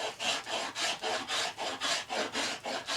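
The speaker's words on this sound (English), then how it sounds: "I don't think we need 20 minutes of watching me rasp a piece of wood." Steady rhythmic rasping as a rasp is stroked back and forth along a wooden small axe handle, about nine even strokes in three seconds, close and clear with no talking.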